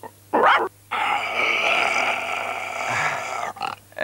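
A wolf cub snarls and barks up close, a sharp yelp followed by a long, loud, rough growl that drags on for several seconds before a few short breaths.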